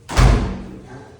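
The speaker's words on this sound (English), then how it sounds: "we are going to close the door real quick" A garage door swings shut with one heavy thud and a low rumbling decay, close by, during concrete floor grinding and sealing work in a garage.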